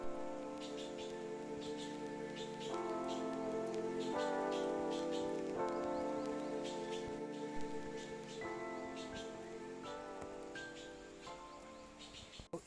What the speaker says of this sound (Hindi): झमाझम बारिश लगे जा रही है